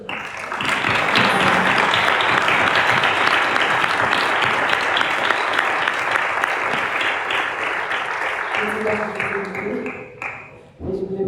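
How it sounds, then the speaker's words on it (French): Sustained applause from an audience at a French talk event, dense and loud for about ten seconds before fading near the end, with voices emerging as it dies down. "Moi, je pense que ça peut s'applaudir."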